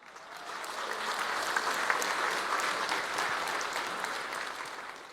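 Audience applause from investors at a stock exchange bell-ringing event, a dense, steady wash of clapping that swells slightly mid-way and holds for the whole stretch without any voices.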